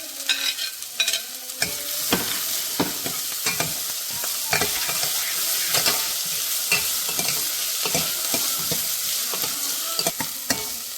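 Green peppers and onions sizzle loudly while they stir-fry in a pan, with a continuous frying hiss broken by frequent rhythmic scrapes and clacks of the spatula.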